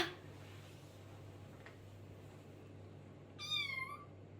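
A pet cat lets out a single short meow near the end, rising and falling in pitch and clearly audible over a quiet room hum.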